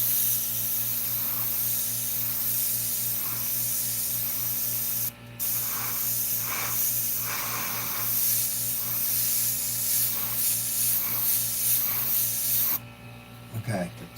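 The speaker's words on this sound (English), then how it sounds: "I'm going to get far away with the airbrush, adding a little bit at a time." An airbrush sprays Createx Illustration Colors paint onto a red Corvette Stingray artwork, a continuous close hiss with a steady compressor-like hum beneath, broken by brief pauses, while a voice talks at moments.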